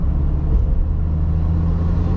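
A Maruti Alto K10 with an AMT gearbox accelerates, its engine giving a steady, loud low rumble heard from inside the car without pause.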